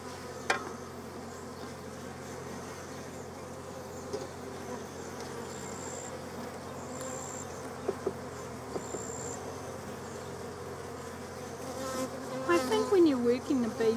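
Honeybees buzz steadily around an opened hive on a bench-style setup, a soft continuous drone with a few individual bees passing close by.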